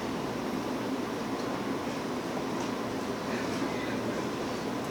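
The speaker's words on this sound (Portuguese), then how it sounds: "O ventilador, sim, a gente escuta um pouco" Electronically controlled condenser fans on a chilled-water system chiller run nearby at a building under construction, giving a steady, even mechanical whir that holds without change and has no voices over it.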